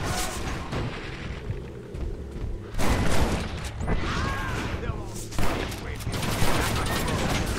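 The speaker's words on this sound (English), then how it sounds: "I guess the game wants you to shoot the dynamite" Heavy gunfire in the Red Dead Redemption video game as dynamite is shot, with dense, loud volleys and booming blasts that roll on without a break, swelling into sharper bursts several times.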